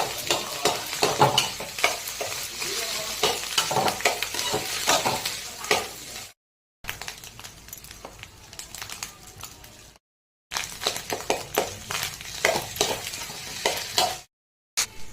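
Chana dal fries in oil in a kadai with ginger garlic paste, sizzling loudly and steadily up close while a utensil stirs and scrapes through it, broken by a few brief silent gaps.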